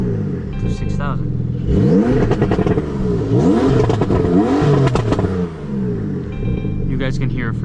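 A Porsche 911 Turbo S (992) with an Akrapovic exhaust revs in neutral, loud repeated rising and falling sweeps of engine sound close by, with someone talking before and after the revs.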